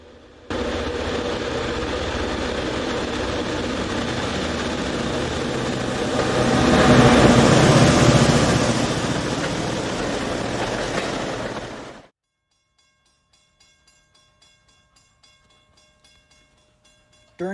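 F unit diesel locomotives lead an excursion train through the Lehigh Gorge, a loud rumbling engine roar that swells to a peak as the train passes close, then cuts off abruptly into near silence.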